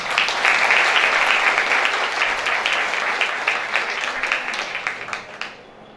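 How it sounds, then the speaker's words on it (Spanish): Applause from an audience at a women's day recognition ceremony, a dense steady patter that holds strong before thinning into scattered claps and fading out near the end. "Juntas nos damos un fuerte aplauso."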